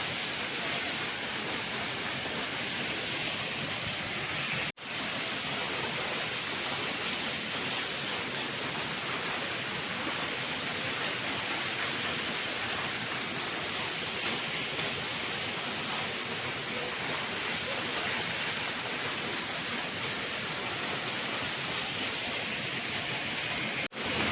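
Langkangtui waterfall near Chotolangpher village, Umrongso, roars as a steady, loud broadband rush of falling water, unbroken for the whole stretch with no voices heard over it.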